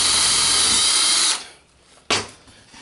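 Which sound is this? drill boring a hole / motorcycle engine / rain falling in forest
drill boring a hole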